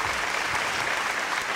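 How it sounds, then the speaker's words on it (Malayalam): An audience bursts into loud, dense clapping at a stage family event, steady and close throughout the short stretch. "നല്ലൊരു കൈയടി."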